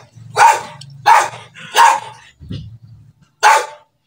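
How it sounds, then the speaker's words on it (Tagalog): A dog barks loudly and close by, four sharp barks spaced about a second apart over a low steady household hum. "Ang ingay ng aso."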